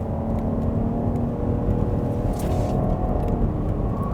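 A 2021 Jeep Grand Cherokee L SUV accelerating hard, its engine and tyre noise forming a steady, close, fairly loud drone with no voices.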